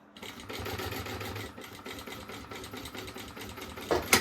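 A sewing machine finishes a seam on a baby organizer, running close and steady with a rapid mechanical hum that slows slightly midway before a brief louder clatter at the end.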